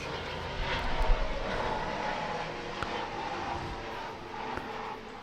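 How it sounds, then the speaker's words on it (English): Airplane flying low over a house, a loud, steady engine roar that swells and holds throughout with no talking. "The plane must have been going right over our house. That was loud."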